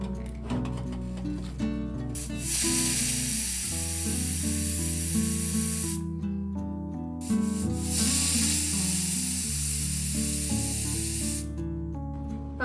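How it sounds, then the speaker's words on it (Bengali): A pressure cooker boiling vegetables for pav bhaji vents in two long, loud bursts of hissing steam, each cutting off abruptly, with a whistling tone running through them and cooking clatter between. "এবার এটাকে ঢাকনা লাগিয়ে তিনটে সিটি দেবো"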